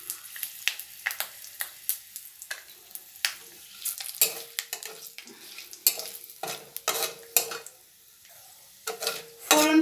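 Bay leaf, dried red chillies and a pinch of asafoetida crackle in hot oil over medium heat, with sharp repeated spoon scrapes and taps against the pan, close and clear, without talk.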